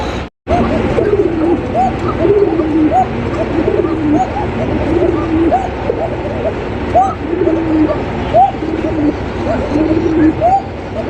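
Several pigeons coo continuously close by, overlapping low burbling calls filling the whole stretch, with a brief dropout near the start.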